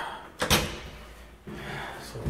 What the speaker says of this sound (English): okay, so I'm shutting the door.